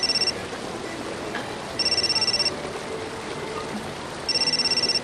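A telephone rings in three separate bursts of rapid trilling bell pulses, each about three-quarters of a second long and spaced roughly two seconds apart, clear over a quiet room with no talking.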